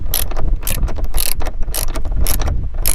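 A ratchet tightens the bolt on a hatchback lift strut of a 4th-gen Camaro, giving rapid, loud, close clicking bursts in an even back-and-forth rhythm, with no voices.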